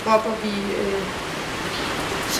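Rain falls steadily outdoors, making a continuous soft hiss with a faint tonal murmur near the start.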